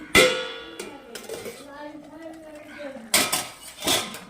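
A metal lid clanks onto a cooking pot of bottle gourd curry with water just added, two sharp clinks near the start and a louder pair of clatters toward the end, with a soft voice murmuring in between.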